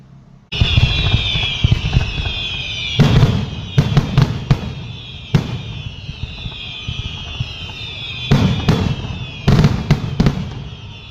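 Sony brand 4.5 inch colour pipe fireworks fire in a series of loud sharp bursts, some booming pops spaced over several seconds, with a sustained hissing whistle running through much of the sequence.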